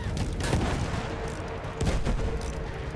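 Rifle and machine-gun fire in a Battlefield 1 World War I battle, a dense fusillade of moderately loud gunshots crackling over constant battlefield noise.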